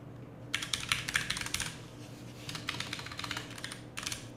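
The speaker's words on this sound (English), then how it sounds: "You would type their name in here" Keystrokes on a computer keyboard as a name is typed into a program, two bursts of rapid, close clicking separated by a short pause, with no talking.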